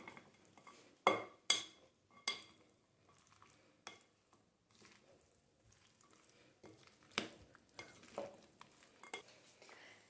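Mayonnaise potato salad with bacon being mixed in a bowl, a few sharp utensil clinks near the start followed by soft, irregular wet stirring and scraping, close and fairly quiet, with no talking.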